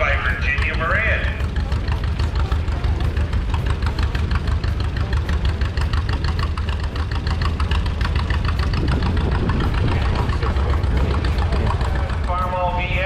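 A 1949 Ford E10 tractor idling at a steam pageant, its engine knocking in a steady rapid rhythm, loud and close throughout, with a voice speaking over it at the start and end.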